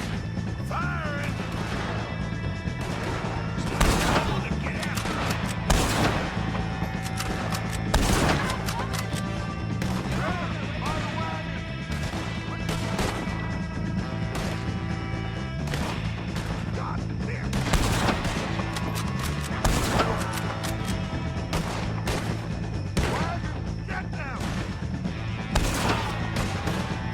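Gunfire in the Red Dead Redemption 2 video game, repeated loud sharp gunshots in irregular volleys over a shootout, with shouting voices mixed in throughout.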